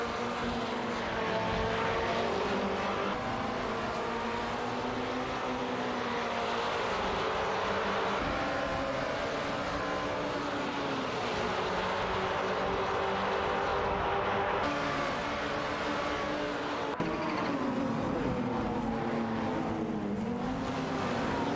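Race cars in a racing game, a Lotus Evora and an Aston Martin Vantage GT4 among AI-driven cars, drone steadily at close range, their engine tones rising and falling and layering over one another with no pauses.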